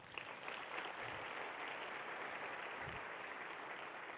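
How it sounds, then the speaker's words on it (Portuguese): Audience applause at a church sermon, a faint, steady patter of many hands clapping that continues evenly throughout, with no one speaking over it. "Você quer aplaudir? Pode aplaudir."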